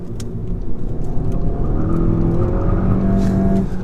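A VW Golf hatchback accelerates hard down a winding B road, heard from inside the cabin as a loud, sustained engine drone whose pitch climbs steadily through the gears.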